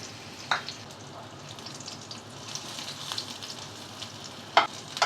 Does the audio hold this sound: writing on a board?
no